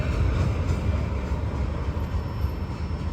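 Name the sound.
Norfolk Southern freight train passing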